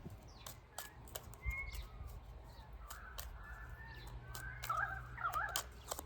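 Outdoor bird calls, including what sound like crows cawing, scattered across a soft background hum, several faint calls rising and falling.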